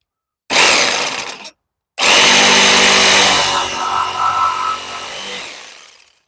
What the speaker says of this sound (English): do it with a circular saw, and then finish with a jigsaw